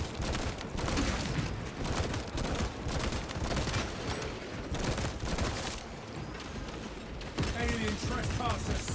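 Bolt rifle fire in a Warhammer 40K video game: dense, rapid bursts of shots and impacts pounding on steadily with barely a pause, loud and continuous throughout.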